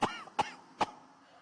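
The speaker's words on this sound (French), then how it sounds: "si ça tousse, c'est très bien" Three short, separate coughs come from a person doing a yoga breathing exercise, each one close and fairly soft, with quiet breath between them.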